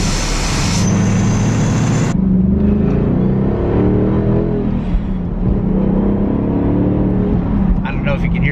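A supercharged 2021 Ford Mustang Mach 1 accelerates at wide open throttle, its loud engine droning and rising steadily throughout with a harmonic roar, after a brief burst of hiss at the start.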